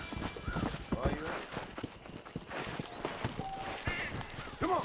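Horse hooves clip-clop in the Red Dead Redemption video game on PS3, a steady rhythmic trot of close hoofbeats with game sounds and speech over them.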